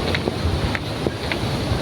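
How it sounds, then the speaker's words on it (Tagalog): Gusty wind buffeting the microphone with a constant broadband rush, plus a few faint ticks scattered through the brief stretch. "Ang init, medyo mahangin."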